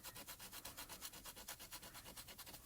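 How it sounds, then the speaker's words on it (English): Gentle rubbing over excess foil on a foiled glimmer craft piece, a quiet close scratchy back-and-forth stroke repeated steadily in a fast, even rhythm, with no talking. "I'm just going to gently rub over that"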